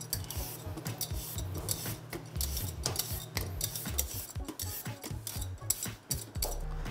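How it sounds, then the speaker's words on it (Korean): A vegetable peeler scrapes the skin off a radish in short repeated strokes, close and fairly quiet, with light clinks of kitchen utensils between passes. "이제 무껍질을 필러로 제거해 줄 거예요"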